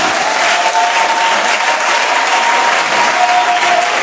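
A church congregation applauds and cheers in praise of Jesus, loud and continuous dense clapping mixed with crowd voices, sustained without a break for the full span.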